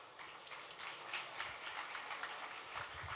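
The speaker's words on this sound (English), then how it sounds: "Big applause." Audience applause at a startup competition on an innovation stage, a steady broadband clatter of many hands clapping throughout, moderately loud and sustained with no talk.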